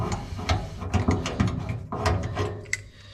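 A riv nut setting tool on a Triumph TR7/8 rally car repair being released and wound back out, giving a run of close mechanical ratcheting clicks and gear-like whirring, fairly loud and steady with no talk.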